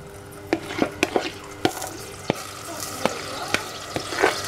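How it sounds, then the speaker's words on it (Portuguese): Minced onion and garlic frying in a pan for a ground beef and potato pie filling, a close, bright sizzle broken by a series of sharp utensil scrapes and taps as it is stirred. "Aqui eu vou colocar cebola que eu tive a moer com alho."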